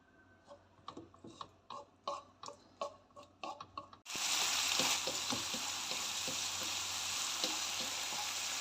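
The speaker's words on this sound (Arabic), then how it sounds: "غنضيف زيت نباتيه، في هذه الاثناء انا شعلت عليها البوطه" Vegetable oil sits in a pan on a gas stove: a run of sharp, evenly spaced clicks gives way abruptly to a loud, steady rushing hiss of the lit burner that holds to the end.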